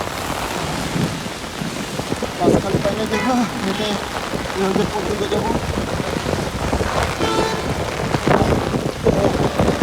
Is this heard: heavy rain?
yes